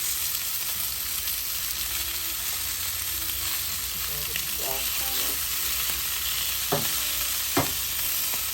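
Lamb chops sizzle loudly in a hot pan with butter, a dense, constant frying hiss close up, with a few faint clicks and a brief, quiet voice in the background.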